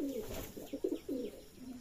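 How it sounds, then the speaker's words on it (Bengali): Racer pigeons coo softly in a series of low, rounded notes at the Sonamasjid pigeon farm, heard faintly against a steady background hiss. "এখানে এক জোড়া আছে রেসার কবুতর"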